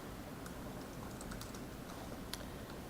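Quiet, scattered clicks of typing on a computer keyboard, a few irregular keystrokes spread over a few seconds under a steady low hiss, with no talking.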